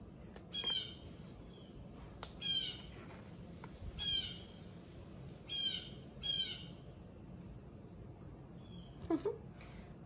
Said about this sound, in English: There's a bird here that's like, hey.